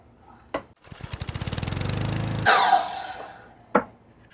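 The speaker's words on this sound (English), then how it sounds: "over here at the miter saw, we'll put a 45-degree bevel with that 1 3/8 width facing up" A miter saw spins up and slices a 45-degree bevel through a wood board: motor whine rising, a sharp bright cut, then the blade winding down, with clunks before and after.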